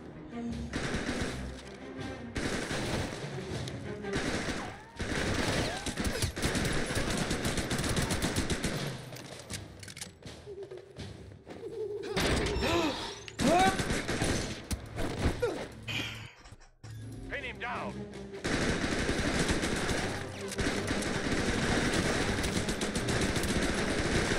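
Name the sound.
AK rifle gunfire in video game Bourne Conspiracy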